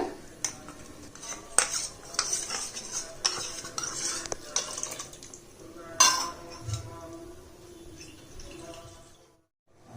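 A spoon stirs gram flour and sambar powder into water in a vessel for Nellai-style idli sambar, giving steady close scraping and clinking against the pot with a few sharper knocks.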